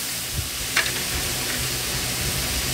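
Fish with shallots and chili stir-frying in a hot pan, a steady sizzling hiss broken by a few sharp scrapes and clinks of the utensil.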